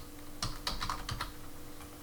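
Soft, quick keystrokes on a computer keyboard click in a short irregular burst, close and quiet, with no talking.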